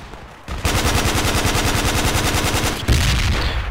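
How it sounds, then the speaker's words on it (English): Rapid, loud automatic gunfire in the military shooter game Project Reality, grenadier fire in a sustained burst after a brief lead-in, with a short break and renewed firing near the end. "Where the fuck is that grenadier fire coming from?"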